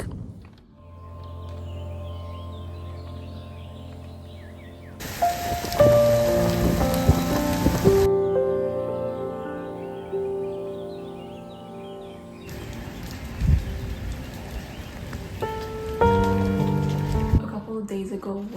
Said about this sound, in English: now it's raining outside.